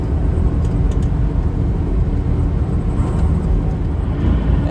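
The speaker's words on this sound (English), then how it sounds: "you get to hear the sounds of the road and the truck" A truck cruises a snowy mountain pass over 7,000 feet on the end of I-70, a steady, loud low engine drone and road rumble filling the cab without a break and with no talk.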